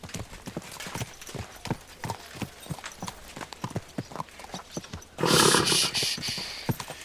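Horse hooves clop in a steady, quick gallop rhythm in the video game Kingdom Come: Deliverance II, fairly close, followed near the end by a loud burst of rushing noise as the hoofbeats continue.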